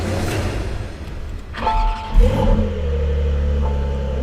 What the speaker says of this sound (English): That's loud. Muffler stupid loud. Porsche.